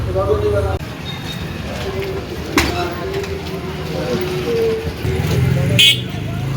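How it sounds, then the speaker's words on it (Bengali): Cars and buses pass along a roadway, a steady wash of traffic noise with occasional horn toots and a whoosh of passing air, while a person talks over it walking near a fair. "এই গাড়িগুলো যাচ্ছে তার হাওয়াটাই কানে এসে লাগছে"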